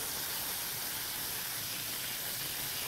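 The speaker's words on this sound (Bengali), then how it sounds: "তেলে 5 ফোড়ন আর শুকনো লঙ্কা দেওয়ার পর আমরা আমগুলো দিয়ে দিলাম। একটু আমগুলোকে সাঁতলে নেব হলুদ দিয়ে।" Raw mango pieces sautéing in hot oil with turmeric, panch phoron and dried red chilli, a steady even hiss that stays constant and fairly faint from start to finish.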